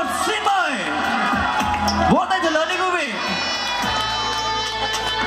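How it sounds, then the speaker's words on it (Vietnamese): Wedding guests cheer, whoop and shout loudly for the bride and groom's kiss, a dense crowd roar with voices rising over one another, while an announcer talks over the noise. "chúng ta sẽ cùng dành một tràng vỗ tay thật lớn cho họ"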